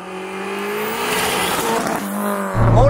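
A Fiat 600 fitted with a 250 hp Punto Abarth engine accelerates hard, its loud revving rising through the gears with a brief drop between shifts, close and alone.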